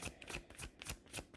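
A deck of tarot cards being shuffled by hand in quick, rhythmic riffles, close and fairly soft, with no talking.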